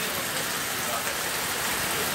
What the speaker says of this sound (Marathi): पत्र्याचा आवाज मोठं वाढलो, पाऊस वाढलेलो समजता.